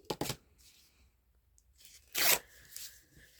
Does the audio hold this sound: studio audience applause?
no